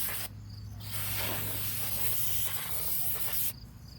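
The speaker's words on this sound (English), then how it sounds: "So clean it up with some brake cleaner." Aerosol brake cleaner hisses onto a new front brake rotor of a 2013 Chevrolet during a pad and rotor change, one steady close spray of about three seconds.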